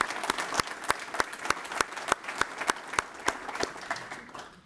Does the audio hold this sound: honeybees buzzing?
no